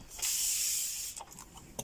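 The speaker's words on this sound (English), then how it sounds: "Spray the paper." A short, steady hissing spray of Distress Oxide ink onto paper lasts about a second, followed by faint light rustles and handling noises.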